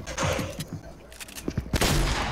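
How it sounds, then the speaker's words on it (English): A charge shotgun blasting in Fortnite, a few sharp, loud shots close together within a couple of seconds amid game noise. "Charge shotgun."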